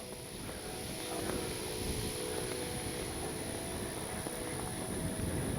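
An FMS P-51 Miss America RC model warplane flies overhead with a steady propeller and engine drone that holds at a constant level against outdoor background noise.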